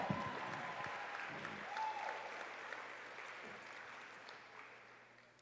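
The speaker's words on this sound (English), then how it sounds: "Can we show our parents the love that we have for them with a round of applause" Applause from an audience at an athletics banquet fills the room, steady and fairly faint as if heard from a distance, slowly fading toward the end.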